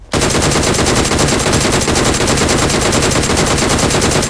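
Rapid, unbroken automatic gunfire from PUBG Mobile rattles on loud and close for about four seconds, each shot blurring into a dense steady burst with no talk over it.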